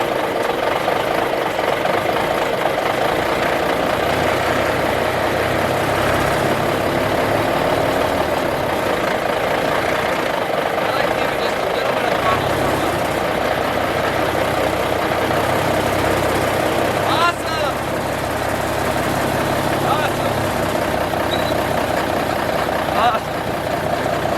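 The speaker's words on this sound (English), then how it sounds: "the second time it started right up. It's working. We'll rev it up a little bit to see the alternator kick in." A 1964 Kenworth logging truck with a big Cummins diesel engine idles steadily nearby, its loud, knocking rumble rising briefly as it revs to bring in the alternator, with no talk over it.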